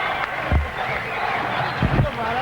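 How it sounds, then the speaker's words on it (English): Boxing event crowd erupting in cheers and noise, a steady roar with a couple of sharp thuds, heard under a commentator's talk. "Crowd erupting for this one."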